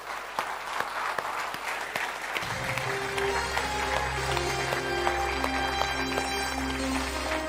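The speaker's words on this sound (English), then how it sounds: "Let's have a round of applause for the team that's supporting this event" Sustained audience applause at a business conference speech, dense clapping that continues as upbeat music with steady tones fades in underneath and carries on alongside it.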